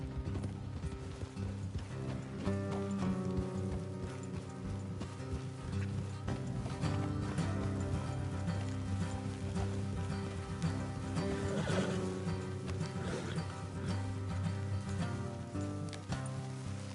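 Steady rhythmic hoofbeats of horses at speed with an occasional whinny in Red Dead Redemption 2, set against a continuous music-like background.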